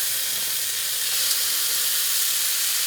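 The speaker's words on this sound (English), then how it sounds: "Now I'm going to add the bacon to this very hot skillet" Bacon strips, cut into roughly inch-wide slices, sizzle in a very hot skillet, giving a steady, close, broadband hiss that holds at an even level throughout with no voices.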